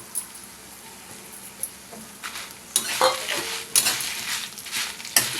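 Dried red chillies fry in a pan with coriander seeds for curry leaf chutney, a soft sizzle that builds as a utensil stirs and scrapes, with sharper clinks and bursts toward the end and no talking.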